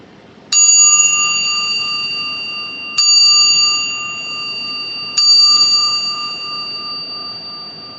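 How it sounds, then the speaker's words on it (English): Three bright bell chimes ring out to close a show, each struck about two to three seconds apart, clear and loud, with long ringing tails that overlap and fade. "Chiming out."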